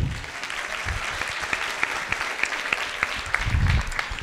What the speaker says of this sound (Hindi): तालियां बजाएं इनके लिए